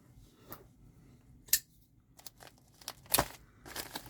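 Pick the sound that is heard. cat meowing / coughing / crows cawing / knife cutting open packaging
knife cutting open packaging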